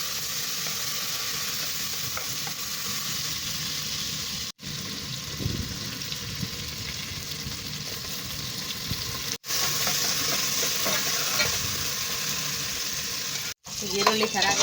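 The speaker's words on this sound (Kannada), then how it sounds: "ಎಣ್ಣೆಲಿ ಚೆನ್ನಾಗಿ ಫ್ರೈ ಮಾಡ್ಕೋಬೇಕು ಈರುಳ್ಳಿ" Onions frying in oil in a village-style kitchen for veg pulao, a continuous close sizzle with occasional stirring, broken by three brief cuts into near silence.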